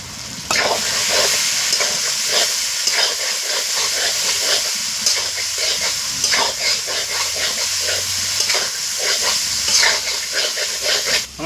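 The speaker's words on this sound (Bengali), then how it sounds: "ভাজা পটলটা এবার কষাবার জন্য দিয়ে দেবো।" Fried pointed gourd sizzles and hisses as it is stir-fried in a pan for a soybean and gourd dish. The frying is steady and fairly loud, with scraping stir strokes recurring throughout and no talking.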